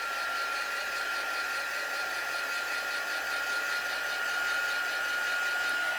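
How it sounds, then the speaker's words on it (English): A heat gun runs steadily as it dries ink on a gothic papercraft project. The whirring blow is continuous and moderately loud, lasting the whole stretch at close range with no talking. "I can give her just a little dry with the heat gun"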